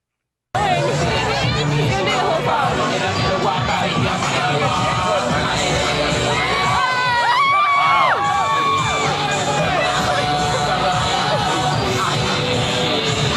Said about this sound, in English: Nearly Naked Batman Pleases the Crowd